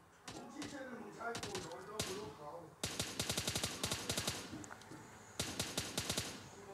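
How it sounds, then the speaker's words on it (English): Automatic gunfire in a vehicle combat video game, with rapid rattling volleys in several bursts while the player is hit and a voice speaks faintly at the start. "getting shot right now."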